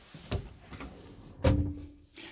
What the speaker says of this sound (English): Under the kitchen unit we have got these storage drawers.